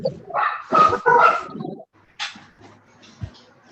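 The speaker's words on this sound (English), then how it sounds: "Someone has dogs." A couple of dogs break out in loud, close barks and yips in a pair of quick bursts, then drop to scattered quieter whimpers and a lone yip as the room falls near silent.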